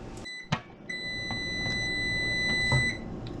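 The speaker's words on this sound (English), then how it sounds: "That timer's went off." A kitchen timer goes off while rice cooks, with a series of steady, high electronic beeps repeating over a low background hum. The beeps are moderately loud and close.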